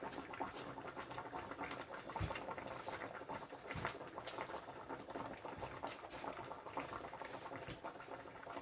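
A pot of Jamaican-style cow foot with broad beans simmers on the stove. Soft, steady bubbling and small pops stay quiet and close, with no talking.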